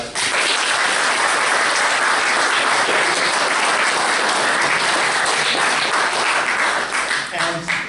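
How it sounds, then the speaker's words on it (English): Loud, dense audience applause fills a room throughout, with a brief voice emerging as the clapping tapers at the very end. "a round of applause for us"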